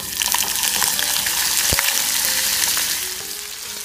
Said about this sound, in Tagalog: ifa-fry na po natin yung ating mga hiniwang patatas at carrots